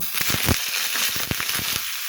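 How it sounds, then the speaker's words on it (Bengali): River shrimp dropped into a tablespoon of hot oil in a wok, crackling and sizzling loudly with sharp irregular pops and spatters close by. "এখন তেলের মধ্যে মাছগুলো দিয়ে দিব"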